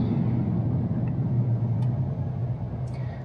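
A 2025 GMC Canyon AT4X AEV crew cab 4WD pickup accelerating, heard from inside as a steady, loud low engine and road rumble that holds without pause throughout.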